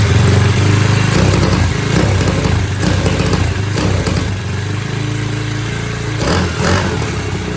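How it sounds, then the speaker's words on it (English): A SYXMoto VK 58cc kids' dirt bike engine running with the choke closed, loud and near, a rough, sputtering, overly rich buzz that surges and stumbles as if hitting a limiter. "what it sounds like if you put the choke the other way, actually choking the machine off"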